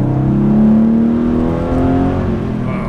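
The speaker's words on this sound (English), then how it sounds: "The exhaust sounds perfect." A modified Porsche 993 C4S with Fister exhaust pulls hard under acceleration, its deep exhaust note rising steadily and loud from inside the car, then easing slightly as the revs settle.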